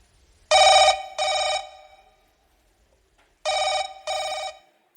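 A telephone bell rings during a school annual function stage performance: two loud double rings separated by a pause, bright and close, with no speech.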